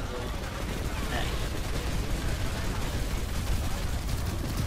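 Dense gunfire in the sci-fi shooter game Planetside 2 crackles as a continuous, loud fusillade of overlapping shots with a low rumbling bed.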